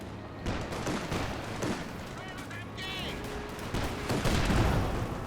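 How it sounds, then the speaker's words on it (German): Machine gun fire in the World War II strategy game Company of Heroes 2, Ardennes Assault mission, with rapid bursts and booms over battle noise and soldiers shouting orders in German. "Schieß mit dem MG auf sie."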